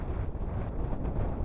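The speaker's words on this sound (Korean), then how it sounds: "그런데 오후에 들어서면서 바람 소리가 커지기 시작했다." Strong wind at sea in Antarctica, heard from aboard the Korean icebreaker Araon, buffets the microphone with a dense, low, continuous roar and gusty rumble throughout, with no other sounds standing out.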